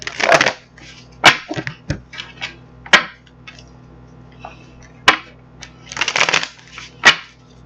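Tarot cards are shuffled in several crisp riffling bursts, close up, with short pauses between them and no talking.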